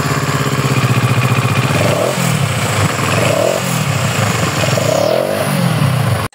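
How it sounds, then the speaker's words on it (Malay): CFMOTO 700CL-X Heritage 2022 motorcycle engine revved repeatedly at close range, loud and steady, with several rising-and-falling throttle blips and no voices, cutting off abruptly at the end. "Bunyi enjin pun sangat menakjubkan."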